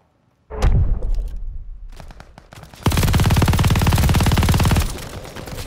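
A light machine gun fires in the Call of Duty: Vanguard video game, a single loud shot followed by scattered bursts, then a long sustained rapid automatic stream lasting about two seconds before cutting off.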